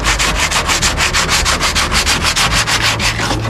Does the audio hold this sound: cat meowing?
no